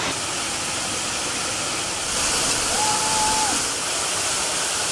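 Steady, close roar of a Wisconsin waterfall, constant broadband rushing water that swells slightly louder midway, with a faint tonal whine briefly over it and no talking.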